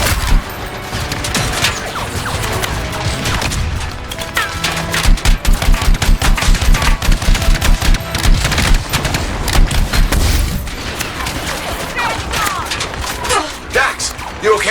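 In the Anthem video game, sustained gunfire hammers at camp turrets in rapid bursts over booming impacts and mechanical clatter, loud and continuous across the whole stretch.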